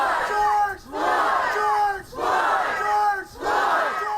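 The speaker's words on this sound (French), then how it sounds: "Acclamé, soutenu par la foule" A street crowd at a George Floyd memorial gathering chants in loud rhythmic waves, four surging bursts of many voices shouting together with brief dips between them.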